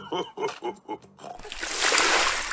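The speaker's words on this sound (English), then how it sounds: "Splash! George gets in the pool." A cartoon piglet makes several short, rhythmic oink-like grunts, then drops into a swimming pool with a loud, sustained splash and a burst of sloshing water.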